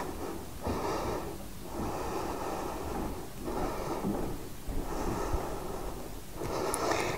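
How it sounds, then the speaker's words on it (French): Slow, deep breathing while holding a yoga pose, with long inhales and exhales in a steady rhythm, close and soft, several breaths in a row. "On respire dans la posture."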